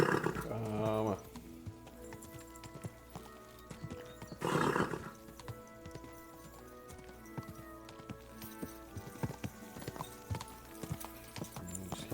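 Video game hooves clip-clop in a quick galloping rhythm in Kingdom Come: Deliverance 2, punctuated by two loud horse whinnies, with a person talking over the steady pounding footfalls.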